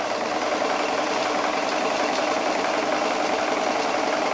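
Sewing machine running continuously during free-motion quilting, a steady, loud, fast mechanical whir with no pauses or voices.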